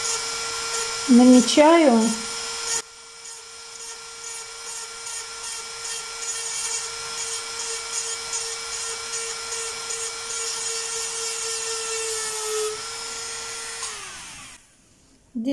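A small high-speed rotary drill bores a hole into a stone for making beads, a steady whining tone held for about twelve seconds before winding down, after a brief spoken word at the start.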